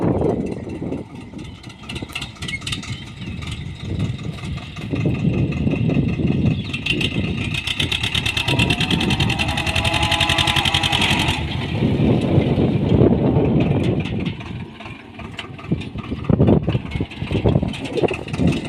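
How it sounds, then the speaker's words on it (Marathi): A tractor engine runs steadily throughout, a loud low chugging idle that rises briefly in the middle, with no talking. "चला तर ट्रॅक्टर चाललेला आहे"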